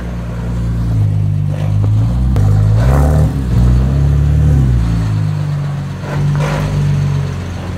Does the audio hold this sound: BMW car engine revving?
yes